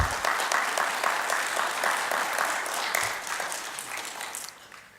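An audience at a department anniversary event claps for several seconds, a dense, even patter of many hands that fades gradually toward the end.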